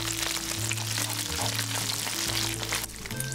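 Streaky beef and garlic fry together in a pan with a steady, close sizzle, a low electric hum running beneath it.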